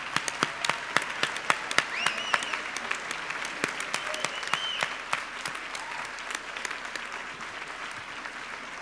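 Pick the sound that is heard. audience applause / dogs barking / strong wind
audience applause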